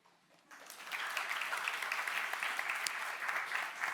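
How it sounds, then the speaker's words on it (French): Audience applause at a French tech conference talk about machine learning teams in production. After a brief quiet moment, the clapping starts abruptly and continues steadily and fairly loud across the room, with no speech over it. "J'ai entendu des applaudissements un peu moins soutenus que tout à l'heure"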